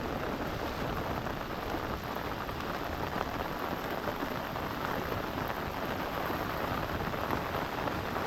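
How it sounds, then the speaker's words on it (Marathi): Heavy monsoon rain pours without pause over a flooded Konkan village and its fields, a dense, steady roar that stays close and loud throughout with no voices. "कंटिन्यू कंटिन्यू पाऊस चालू आहे"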